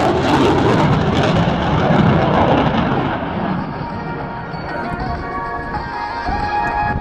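Military jet at an air show making a max thrust flypast, a loud, sustained broadband roar that stays heavy throughout, slowly easing and thinning as the aircraft passes, with a steady whine and crowd noise in the background.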